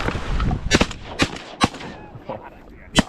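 Shotgun shots during a South Dakota duck hunt, several sharp outdoor blasts at uneven intervals, some near and loud, others fainter, with wind and brief voices between them.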